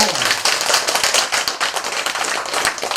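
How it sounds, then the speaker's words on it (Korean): A crowd claps together in dense, steady applause that fills the whole stretch, loud and close, during a Buddhist Dharma lecture on the Lotus Sutra. "부처님한테 박수 한번 쳐봐요"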